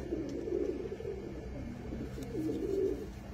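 Nawaba pigeons coo in soft, rolling, repeated calls that run steadily throughout at moderate volume.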